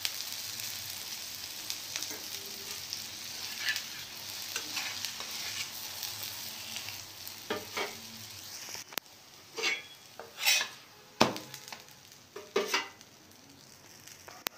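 A cabbage roti sizzles in oil on a pan, a soft steady fry that gives way to louder scraping and spatula knocks as it is flipped and oiled; no talking.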